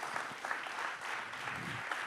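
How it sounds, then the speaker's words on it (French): Brief, soft applause comes from an audience at a public forum event, with distant, muted clapping running evenly for a couple of seconds. "déjà on vous applaudit"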